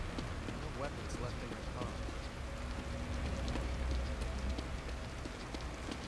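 Rain falling in the horror video game The Evil Within, a steady dense patter with soft low rumble beneath, continuous throughout at moderate level with no clear talk over it.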